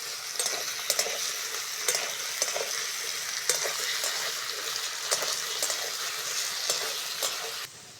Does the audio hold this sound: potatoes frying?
yes